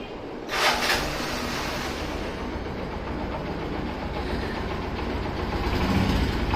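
A Bajaj Platina 100 motorcycle in fresh condition with an untouched engine idles steadily nearby, a continuous low rumble after a brief burst at the start.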